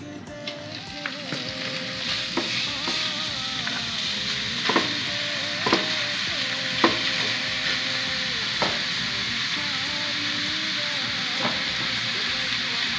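Kebabs frying in a little oil in a hot pan, a steady close sizzle with occasional utensil taps and scrapes, continuous and without talk.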